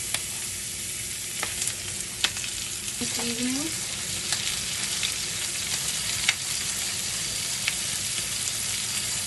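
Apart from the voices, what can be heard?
chicken skin sizzling in pan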